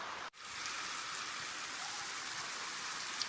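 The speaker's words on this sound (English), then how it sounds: "Well, it's still raining." Steady rain falls in a dense, even hiss that holds throughout, close and continuous, with one brief dip just after the start.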